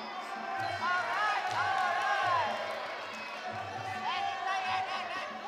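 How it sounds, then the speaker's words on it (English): A packed crowd at a Scottish Championship fight cheers and roars steadily in the background, with a commentator talking over it throughout. "the crowd are loving it"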